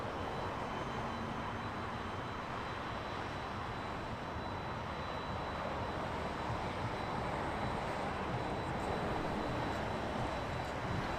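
An Air Canada Airbus A220-300 lines up on the runway at Toronto Pearson at night, a steady, distant broadband engine roar holding at an even level throughout with no voices.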